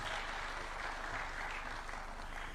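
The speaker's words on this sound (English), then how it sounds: "We can clap for him as he's coming" Steady applause from a crowd welcoming Kenya's President at a University of Nairobi launch event fills the space, dense continuous clapping holding at an even level throughout.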